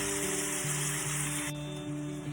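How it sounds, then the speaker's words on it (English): Steady, loud sizzling of pork chops frying in a hot pan, a continuous crackling hiss with a low hum running beneath it. "So we're going to frying this off."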